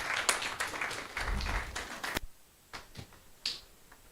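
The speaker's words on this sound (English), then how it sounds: "Please give him a round of applause" Scattered audience clapping at a university computer science department's alumni homecoming, a patter of separate claps that thins out after about two seconds into a few isolated claps.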